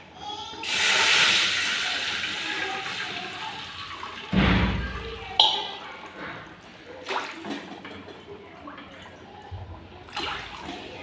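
Water poured into a kadhai holding a little oil gives a loud rushing hiss for a few seconds. Scattered clunks and softer bubbling and sizzling follow, with no one talking.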